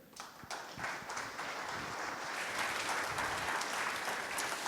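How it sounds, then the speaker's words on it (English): An audience at a conference keynote applauds, a broad, steady wash of many hands clapping that holds at moderate loudness from a little distance, with no talking. "Please give a hand to Damon Edwards."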